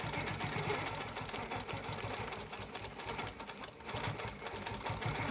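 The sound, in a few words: sewing machine stitching a wholecloth quilt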